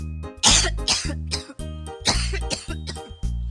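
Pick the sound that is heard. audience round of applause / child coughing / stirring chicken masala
child coughing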